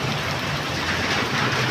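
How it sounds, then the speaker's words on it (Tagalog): Heavy rain pouring steadily, a dense continuous hiss of drops on surfaces that stays loud and even throughout with no gaps. "Lakas ng ulan mga kaidol"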